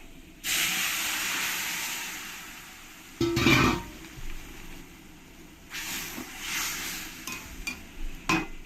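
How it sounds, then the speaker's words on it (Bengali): Kalmi greens curry poured into fried garlic in hot oil, giving a loud steamy hiss that starts abruptly and holds for a few seconds, then a sharper burst of sizzle and scraping, followed by softer, uneven bubbling. "আমি এবার এর মধ্যে ওই তরকারিটাকে ঢেলে দেবো শাগের"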